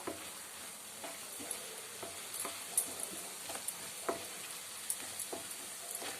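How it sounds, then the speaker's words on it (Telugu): Garam masala and other ground spice powders frying in a pan for a drumstick masala curry, with soft sizzling and scattered light scrapes and taps of a spoon stirring at a steady, unhurried pace. "ఇవన్నీ ఫ్లేవర్లు అన్నీ వేసిన తర్వాత కొంచెం సేపు వేయించుకుందాం"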